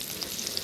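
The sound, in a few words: fish frying in oil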